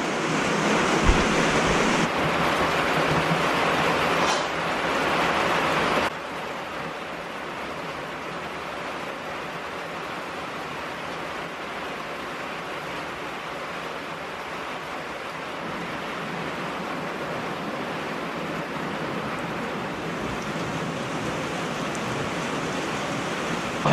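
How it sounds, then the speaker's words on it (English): Steady rain falls as a dense, even hiss, louder in the opening seconds and then slightly softer but continuous, with no voices. "I think it's raining even harder now."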